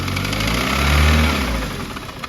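A car engine idles steadily with a mechanical ticking or knocking running through it, possible rod knock from a bottom-end failure, swelling briefly in loudness midway, heard up close with no talking.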